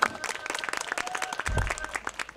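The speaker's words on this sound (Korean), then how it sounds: "곽은지 국악연구소의 무대 박수로 함께 받아보겠습니다" An audience applauds steadily at an evening outdoor Korean traditional music performance, with dense clapping throughout and a few cheers mixed in, fairly close.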